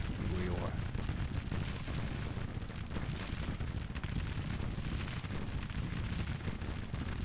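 A Grand Tactician Civil War battle with a Confederate army engaged: dense, continuous gunfire and booming artillery fill the whole stretch, rolling and crackling steadily at close range with no pause.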